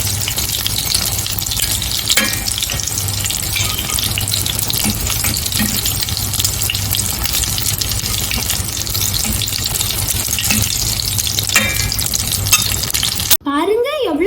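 Anchovies (nethili) frying in hot oil, a constant close sizzle with occasional stirring scrapes, ending in a brief sharp clatter.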